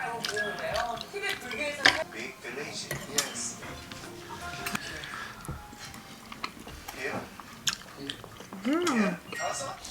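Food eaten with perilla leaves is chewed close by, with wet munching and occasional clinks of dishes and cutlery, while people talk over it.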